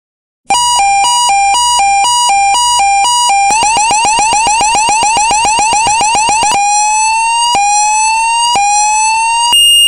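A multi-tone bell siren alarm blares loudly and alone, first pulsing in slow two-tone steps, then in rapid warbling chirps, then in repeated rising whoops, all continuous and piercing.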